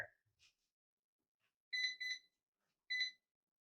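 Short electronic beeps from an air fryer being set to preheat: two quick beeps close together, then a single beep, crisp and isolated in an otherwise quiet room.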